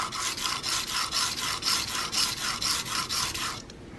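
A Cutthroat single-bevel broadhead is stroked across a 1200 grit sharpening stone in a steady run of about eight even, rasping passes, close and clear, stopping abruptly near the end.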